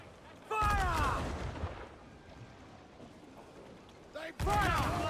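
Ship cannons fire in a naval battle in Assassin's Creed IV: Black Flag, two heavy booming volleys with a lull between them, while voices shout over the gunfire.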